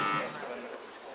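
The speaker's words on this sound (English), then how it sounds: "the first team that presses the buzzer gets to choose the category" A quiz buzzer pressed by a team during a Knowledge Bowl competition gives a short, bright electronic tone that cuts off quickly, followed by faint room sound.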